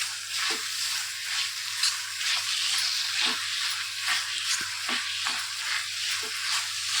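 Grated coconut being stirred in a pan over low flame for a modak filling, giving a steady soft sizzle with scraping stir strokes recurring every second or so, close and continuous, no talk.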